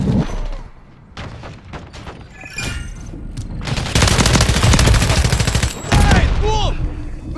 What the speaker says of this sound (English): Taking effective fire.